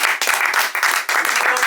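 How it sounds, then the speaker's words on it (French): An audience claps loudly and continuously at the close of a live magic show, with the dense crackle swelling in a few waves. "on peut les applaudir bien fort"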